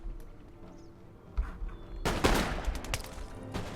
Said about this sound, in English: it looks like we're going to get multiple ranks firing